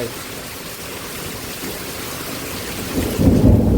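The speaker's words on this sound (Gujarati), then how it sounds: "પવન એવો છે ને વરસાદ એવો ઉઠી ઉઠીને આવે" Heavy rain pours steadily with strong wind noise during a thunderstorm with lightning, and a deep rumble of thunder swells near the end.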